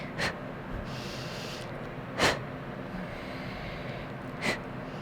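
Three sharp, heavy breaths close to the microphone during a yoga stretch, spaced about two seconds apart, with quiet in between.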